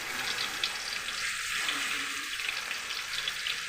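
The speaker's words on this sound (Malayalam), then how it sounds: "ചിക്കൻ പൊരിച്ചെടുക്കാം." Marinated chicken fries in hot oil for a biryani, a steady close hiss and crackle of sizzling that holds evenly throughout with no talking.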